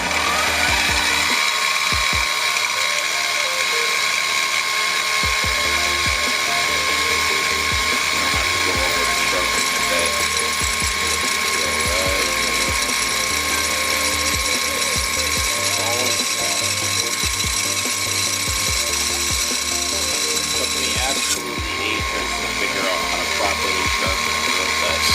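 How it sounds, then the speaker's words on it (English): Drill boring handle pin holes through an annealed, softened steel kitchen knife blade, a loud continuous mechanical whine and grinding that runs steadily throughout, close up and without talk. "I am going to just transfer over and drill some holes and do the handle pins"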